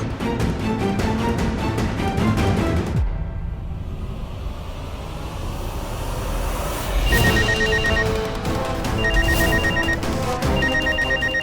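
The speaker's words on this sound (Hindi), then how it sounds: "रीमा दी का फोन तो नहीं।" A telephone rings insistently in repeated electronic bursts, loud and close, continuing over several seconds, in a Hindi TV drama scene.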